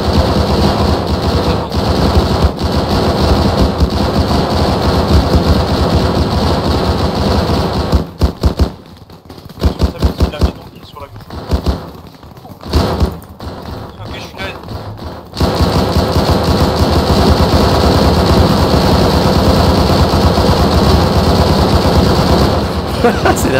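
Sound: gunfire from shooting at enemies in video game Arma 3

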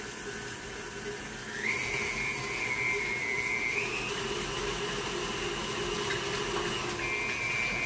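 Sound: KitchenAid stand mixer running with whisk beater

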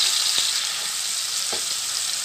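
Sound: chicken frying in hot oil while being stirred

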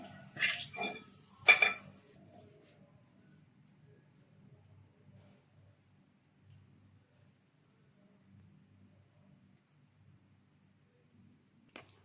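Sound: scooping fried raisins out of ghee in a pan

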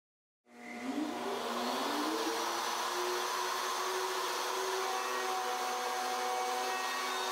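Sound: router routing a board with Leigh R9 template

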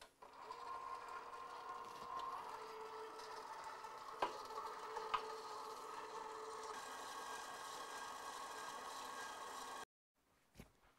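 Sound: electric mixer running, mixing ice cream base

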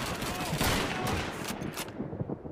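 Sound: gunshot in Call of Duty 2 video game

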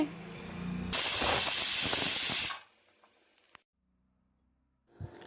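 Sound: pressure cooker releasing steam

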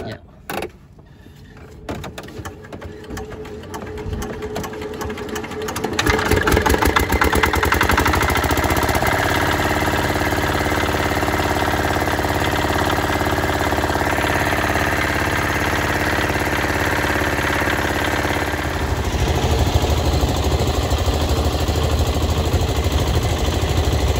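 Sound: fishing boat engine starting and idling

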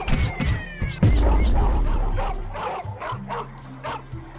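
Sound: police dogs barking in Roblox video game

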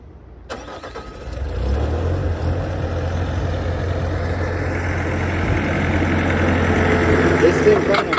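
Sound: skid steer loader engine idling

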